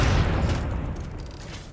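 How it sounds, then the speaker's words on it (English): A loud, deep explosion in the video game Satisfactory rumbles up front and slowly fades over under two seconds, with no talk over it. "The explosion is so loud."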